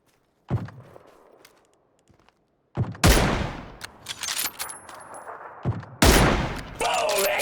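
Gunfire in the video game PUBG: a single loud shot, then heavy bursts of overlapping shots and reports with echoing tails, broken by short pauses.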